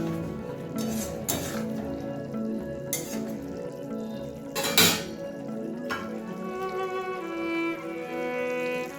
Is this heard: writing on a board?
no